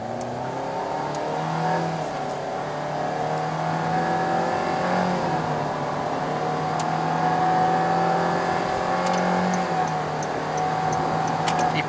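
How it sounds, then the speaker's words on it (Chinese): A 2022 Perodua Alza 1.5 AV with a CVT, driven in S mode, pulls hard under throttle. The engine drone holds steady and rises gradually, heard from inside the cabin and loud, with no talk. "现在我换去 S 档， 踩下去油门。"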